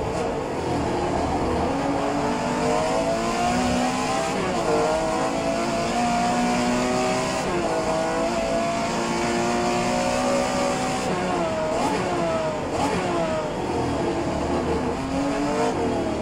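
Porsche 911 Carrera RSR 3.0L race car in rFactor 2, its engine loud and continuous throughout, revving up and down through gear changes with rising and falling pitch as the car is driven hard around a track.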